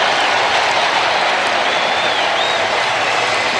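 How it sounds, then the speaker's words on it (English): Football stadium crowd at an NFL game roaring and cheering after an exciting play, a dense, steady wash of noise holding loud for the whole stretch with no break. "Listen to the crowd."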